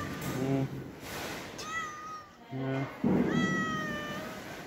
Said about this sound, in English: A cave cat.